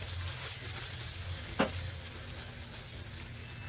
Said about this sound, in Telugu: త్రీ మినిట్స్ ఫ్రై చేసుకుంటే టమాటా కూడా బాగా ఫ్రై అవుతుంది.